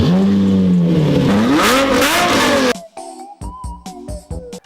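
A tuned 2002 Mazda Roadster 1.6 track and drift car revs loudly up close, its engine note swooping up and down, then cuts to short, choppy bursts of revving and gaps as it is moved around.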